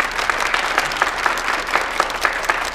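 Audience clapping at an evening party, a dense, steady round of applause from a crowd with sharp individual claps standing out, continuing without a break.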